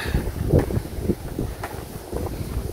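Strong seaside wind near the Sanxiantai arch bridge in Taiwan, gusting against the microphone in uneven rumbling buffets for a few seconds.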